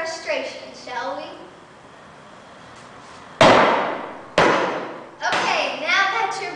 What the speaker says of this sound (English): I've gathered a number of precision tools to help me create a bunch of dents and gouges to really rough this piece up.